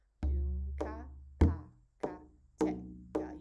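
A hand drum sounds a combination of doom, ka, pa and tek strokes: six distinct hits, close and loud, with deep resonant booming doom tones mixed with sharper higher slaps and ticks in an uneven rhythm.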